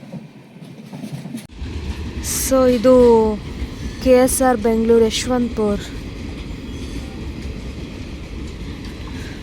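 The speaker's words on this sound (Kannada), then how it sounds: "ಆ ಕಡೆ ಟ್ರೈನ್ ಇನ್ನೊಂದು ಬರ್ತಿದೆ" A train rumbles in with rhythmic squealing and clanking of wheels, loud and nearby, while a person talks over the noise.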